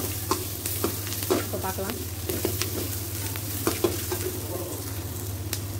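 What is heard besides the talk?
idli pieces frying in a pan until golden brown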